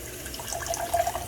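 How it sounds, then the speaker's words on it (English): A kitchen faucet with a filter, in a house in Sonzacate, El Salvador, running a steady, close hiss of room-temperature water for a brief moment, with no talking. "turn on your faucet normal"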